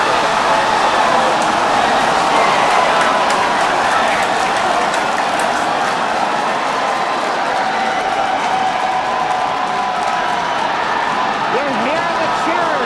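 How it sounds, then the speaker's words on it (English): A crowd cheers and shouts in a continuous dense roar during a SpaceX Starship launch's first hot stage separation, with an announcer talking over the sustained noise throughout. "We're hearing the cheering."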